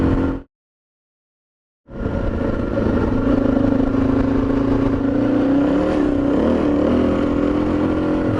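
A Suzuki DRZ400 dual-sport motorcycle rides along a road, its single-cylinder engine droning steadily and loud after a brief silent cut near the start, with wind noise and slight pitch rises as it accelerates.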